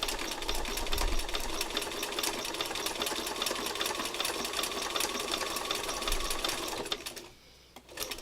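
Sewing machine running steadily and close to stitch down a skinny little fabric tail, a continuous dense mechanical whir for several seconds that stops briefly near the end, then starts again.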